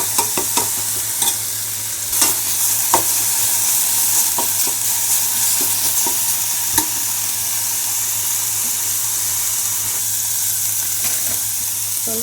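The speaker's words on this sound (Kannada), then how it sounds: "ಸ್ವಲ್ಪ ಧನಿಯಾ ಕೊಡೋದು, ಸ್ವಲ್ಪ ಚಿಲ್ಲಿ ಪೌಡರು, ಇದಿಷ್ಟನ್ನು ಹುರಿದ್ಬಿಟ್ಟು" Raw masala with coriander powder and chili powder fries in a pan beside onions, a loud, close, steady sizzle broken by repeated stirring scrapes and clicks, with no talk.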